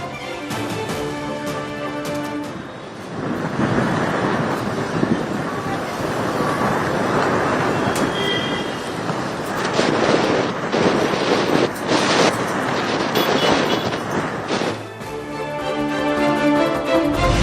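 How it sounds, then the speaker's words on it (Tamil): Strong wind from a dust storm under dark clouds at Chennai's Marina beach buffets the microphone in a continuous, loud roar that rises and surges over the whole stretch. "சென்னை மெரினா கடற்கரையில் கருமேகங்கள் சூழ்ந்து புழுதி புயல்"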